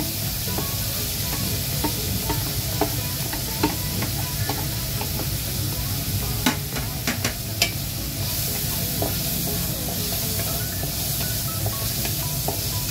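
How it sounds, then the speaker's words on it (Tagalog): Garlic fries in a little oil in a pan for Bicol Express, a steady close sizzle and hiss broken by the scrape and clink of stirring. "Add natin yung bawang."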